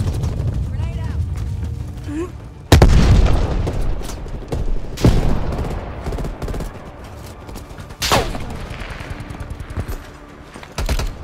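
A grenade blast and gunfire in multiplayer Call of Duty: Black Ops Cold War, with loud sharp booms standing out against steady rattling shots and talk in the background.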